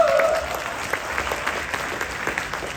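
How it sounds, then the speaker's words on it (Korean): Applause from a congregation at a church seminar hall in Daejeon, a dense, even roar of many people clapping that starts loudly and continues steadily, with a brief tonal sound at the very start. "박수 한번 드리겠습니다."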